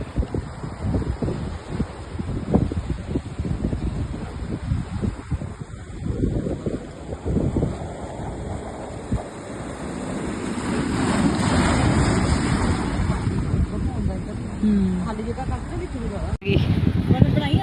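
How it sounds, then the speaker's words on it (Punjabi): Ocean waves wash in and draw back on a beach in Goa at sunset, a rushing roar that swells and eases under wind noise, with people talking nearby. "ਦੇਖੋ ਜਿਵੇਂ ਕਿ ਪਾਣੀ ਕਿੰਨਾ ਸ਼ੋਰ ਮਚਾਉਂਦਾ ਆਂਦਾ ਤੇ ਸ਼ਾਂਤ ਹੋ ਕੇ ਵਾਪਸ ਮੁੜ ਜਾਂਦਾ ਹੈ"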